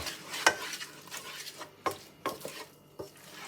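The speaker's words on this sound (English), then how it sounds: "Let's get that all in. Mix around nicely." A utensil stirs pepper into liver and onions in a pan with a faint sizzle underneath, broken by a few sharp clinks and scrapes against the cookware.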